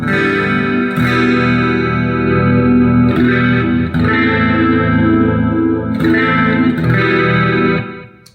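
A clean electric guitar on the bridge pickup strums sustained chords with a bright, shimmering tone, each new chord struck every second or two, ringing out at the end.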